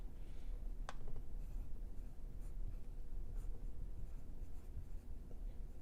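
Outlines drawn on paper for an art class demo, close, steady scratchy strokes of a drawing tool with occasional sharper ticks, continuing without talk.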